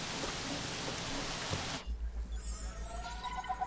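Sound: rain in video game Jurassic World Evolution

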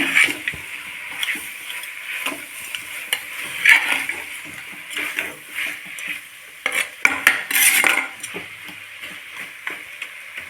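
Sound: stirring country chicken curry in a pan

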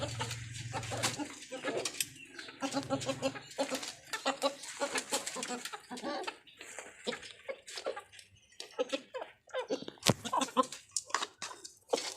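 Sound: chickens clucking

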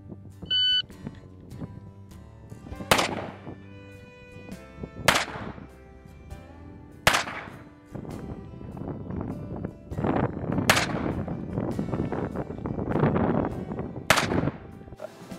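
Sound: revolver shots after timer beep, Smith & Wesson 625

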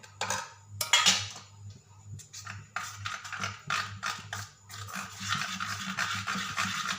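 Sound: mixing tempering into batter in a bowl

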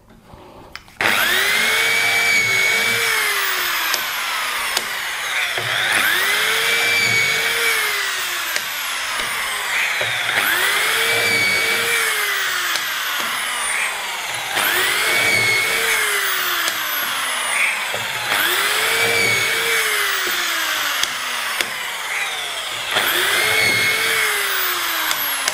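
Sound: high-speed drill boring holes into wood

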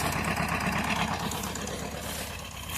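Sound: vehicle engine revving

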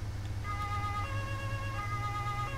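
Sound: police car siren in Autobahn Police Simulator video game

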